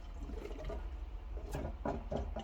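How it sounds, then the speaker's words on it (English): A Fluval 407 canister filter being primed draws water in with gurgling, slurping bursts that come in uneven pulses, close and fairly soft. "It's now sucking water up into the filter."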